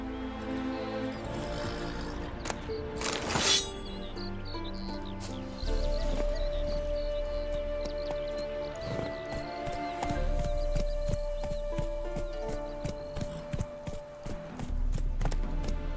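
Horse hooves clip-clop steadily in The Witcher 3: Wild Hunt, a rhythmic trot of close, fairly loud hoofbeats running throughout under layered orchestral game music, with no clear speech.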